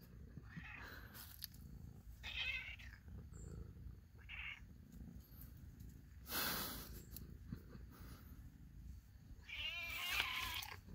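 A cat meows in a few short, close, fairly quiet cries, with a longer wavering meow near the end, between breathy snorts and faint purring against a low background rumble.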